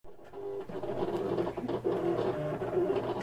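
An electronic cutting machine works through paper pieces laid out on a cutting mat, giving a steady mechanical whirring and buzzing hum with small rhythmic shifts, close and continuous for a few seconds with no talking.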